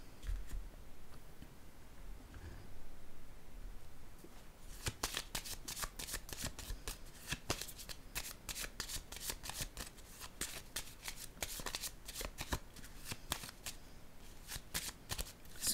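Oracle cards are handled and laid down on a surface: a soft rustle at first, then a long run of crisp, close, rapid card snaps and flicks with an uneven rhythm.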